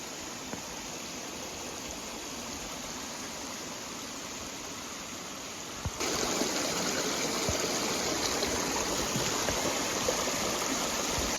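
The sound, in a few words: mountain stream waterfall on hiking trail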